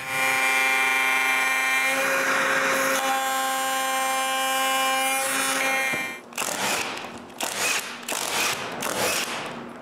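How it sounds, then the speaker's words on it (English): A router table with a pattern bit trims excess pine, first a loud steady high-pitched motor whine, then choppy bursts of cutting noise as the wood is fed past the bit. "I go to the router table and with a pattern bit, I remove the excess wood"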